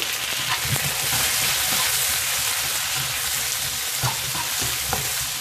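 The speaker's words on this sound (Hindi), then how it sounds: "हम इसको थोड़ी देर फ्राई करते हैं" Steady, continuous sizzling of onions, tomatoes, and whole ginger and garlic frying in a pan for butter chicken, even and unbroken throughout with no talking.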